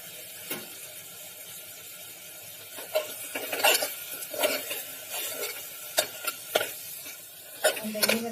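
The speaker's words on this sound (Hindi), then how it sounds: "इसको दही के साथ भी थोड़ी देर भूनेंगे, तकरीबन 5 मिनट" Chicken mince frying with yogurt in a pot, stirred with a utensil: soft continuous sizzle broken by scattered scraping and clinking stirs, close and moderately quiet, no talking.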